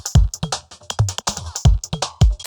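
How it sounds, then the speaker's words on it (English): A punchy IDM drum groove runs as a whole track group through a phaser, with booming kicks and crisp clicks in a quick, syncopated pattern and a faint sweeping shimmer in the highs, loud and close. "here actually I'm using a phaser on the entire group"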